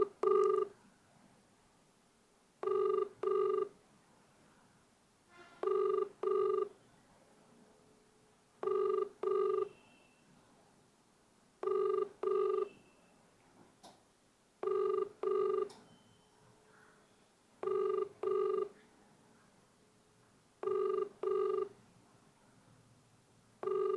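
A telephone ringing out on a call that goes unanswered, with eight evenly spaced double rings, each a pair of short electronic bursts separated by a pause, loud and close with no voices.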